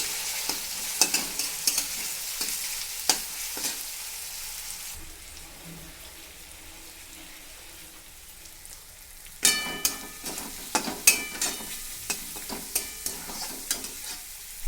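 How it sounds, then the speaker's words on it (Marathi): Ginger-garlic paste sizzles in hot oil for a sprouted moth bean curry, with a spatula scraping and tapping the pan; the frying quiets for a few seconds, then the stirring and sizzle pick up again, steady and close. "आलं लसूणची पेस्ट टाकून चांगलं परतून घेतले की भाजी छान होते"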